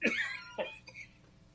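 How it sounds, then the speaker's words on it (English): A person coughs twice in quick succession, harsh, close bursts followed by a fainter throat sound, heard alone. "I was having a coughing fit."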